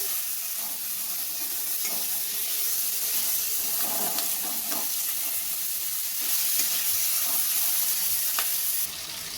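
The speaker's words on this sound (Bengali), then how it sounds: "এবার আমি টমেটো, কাঁচা লঙ্কা আর ক্যাপসিকামটাকে আবার ভালোভাবে ভেজে নেব।" Tomato, green chilli and capsicum sizzle steadily in a hot pan for dry chilli paneer, a continuous close frying hiss with occasional stirring scrapes and no talking.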